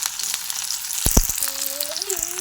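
Onions fry in a pan for chowmein with a steady, close sizzle, broken by a few sharp clatters of stirring and a brief tonal squeak near the end.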